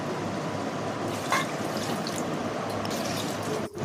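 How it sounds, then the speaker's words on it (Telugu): Water pours steadily into a cooking pot while mutton biryani is being made, a continuous splashing, trickling stream close by with a brief dip in level near the end, and no talking. "బిర్యానీకి అవసరమైన వాటర్ యాడ్ చేసుకోవాలి."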